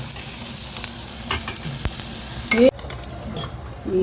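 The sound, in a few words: oil tempering for potato filling of masala dosa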